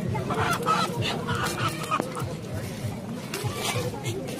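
Roosters and other poultry cluck and squawk at a busy Sunday poultry market in Yavatmal, India, short irregular calls overlapping with nearby chatter and crowd noise.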